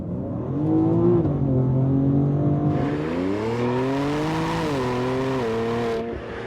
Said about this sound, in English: Wide open throttle, valves closed.